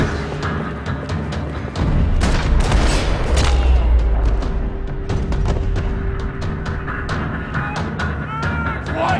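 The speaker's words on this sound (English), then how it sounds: "Another parking lot rattling with gunfire." Gunfire rattles across a parking lot in the video game Max Payne 3, with loud booming bursts and dense overlapping shots that swell after the first two seconds and keep going steadily, plus a few faint voices beneath.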